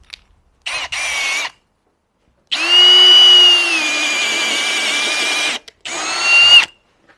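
A power drill bores through a workpiece with a freshly sharpened drill bit, giving a short burst, then a long steady whine lasting about three seconds, then another short run, loud and close with no talk.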